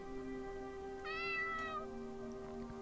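A cat in the video game Ara Fell gives a single drawn-out meow, fairly faint, over a steady low electronic hum.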